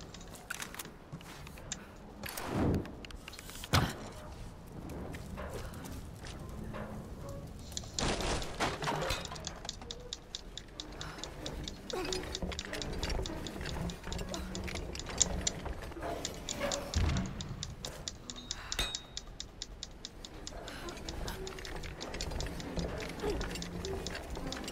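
A jammed gate mechanism in Tomb Raider clicks, ratchets and clanks with a few heavy thuds, a long run of rapid metallic ticking beneath game ambience.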